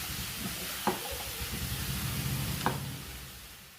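Apple pieces stirred through melting sugar in a pan, with a steady soft sizzle and a couple of sharp utensil scrapes against the pan.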